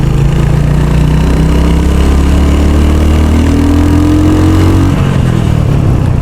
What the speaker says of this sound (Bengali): এটা যে একটা আওয়াজ দেয় থুপ থুপ থুপ থুপ থুপ থুপ করা একটা আওয়াজ